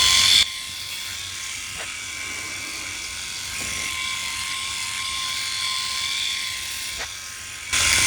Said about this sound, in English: I'm playing around a bit really with different style of strokes with a little bit of circling and some just shaving against the grain.